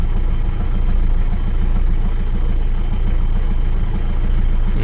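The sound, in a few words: Mitsubishi 2.8 turbo diesel engine idling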